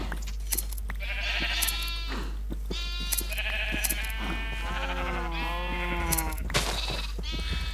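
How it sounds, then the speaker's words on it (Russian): Sheep in the Minecraft video game bleat repeatedly, several overlapping wavering calls following one another close up over a steady low background hum, with small clicks between them. "Что ты овец мучаешь? Я слышу, как они кричат."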